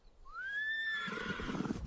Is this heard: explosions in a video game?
no